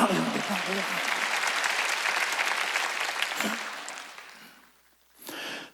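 Congregation clapping together during a Wednesday church service led by a pastor, a dense steady burst of applause that fades out, followed by a short murmur of voices.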